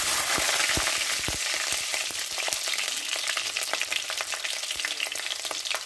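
Garlic and ginger fry in a pan for a Kollam-style fish curry, a continuous bright sizzle crackling with dense pops and occasional utensil taps, close and unbroken.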